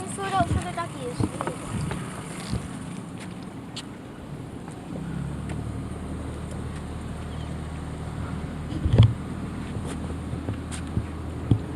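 A small boat's outboard motor drones steadily on the water in the Gulf Islands, a low hum that grows firmer as the throttle opens, with wind noise on the microphone and occasional voices.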